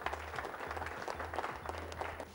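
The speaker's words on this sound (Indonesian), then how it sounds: "Yes, tepuk tangan dong buat Buan." Studio audience applause at a motivational talk show, rhythmic clapping from a small group, fairly faint, with a repeating low thump underneath throughout.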